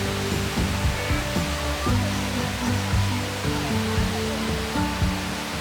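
Cascade Falls in Yosemite Valley, seen from Big Oak Flat Road, gives a constant broadband roar of falling water, with low engine-like tones from passing traffic underneath.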